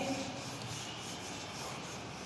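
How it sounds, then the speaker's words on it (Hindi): Writing being erased off a board, a steady soft rubbing and scrubbing sound, faint and close, continuous for a couple of seconds with no talk. "इसको पूरा ही मिटा देता हूँ मैं"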